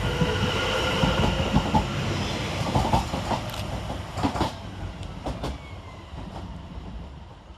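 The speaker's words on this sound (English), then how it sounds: "7:10:105 departs with the 1902 London Overground service of Chingford to London Liverpool Street" A London Overground class 710 electric train pulls out of Bethnal Green station, a loud close rumble of wheels and motors with clicking rail joints and brief squeals that fade as it moves away.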